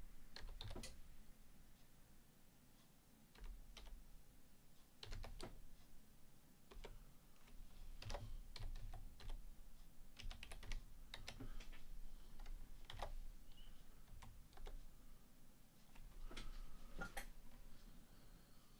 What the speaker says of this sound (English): go into a terminal and we just type in sudo